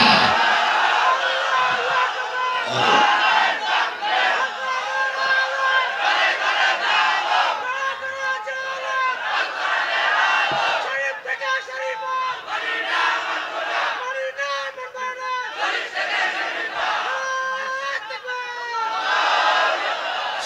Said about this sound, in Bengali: যা ওর সমর্থনে একটা জোরে তাকবীর দেন একজন